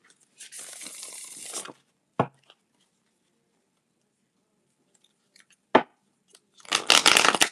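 Tarot cards being shuffled: a sustained riffling rustle, a few sharp card snaps and taps, then a second loud burst of shuffling after a quiet pause, with no voices.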